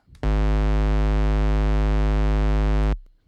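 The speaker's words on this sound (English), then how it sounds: "this sine wave is playing at the same frequency of the kick drum" A steady, loud low sine tone tuned to a kick drum's frequency in a minimal techno production holds for nearly three seconds, then cuts off abruptly.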